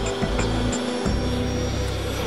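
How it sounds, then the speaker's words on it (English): A freshly repaired engine runs with a steady, loud roar and whine, a few pulsing low rumbles early on, with no talking over it. "Ali got the engine working again"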